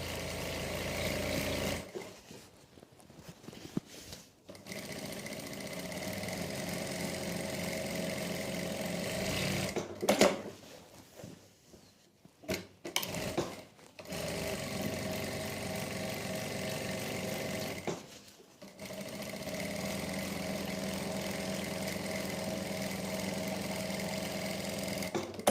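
Sewing machine stitching a wavy line on a salwar, running in long steady bursts with brief stops between runs, whirring close and continuous with no talking.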